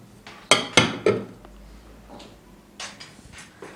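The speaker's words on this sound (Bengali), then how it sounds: "একটা ঢাকনা দিয়ে ঢেকে" A lid is set down over a bowl of kneaded flour dough for egg biscuit pitha, giving a few sharp clinks and knocks in quick succession, followed by softer shuffling sounds in a quiet kitchen.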